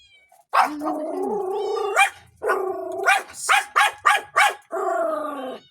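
A dog barks and howls in a run of drawn-out, whining barks followed by several short sharp barks, close and loud with no talking.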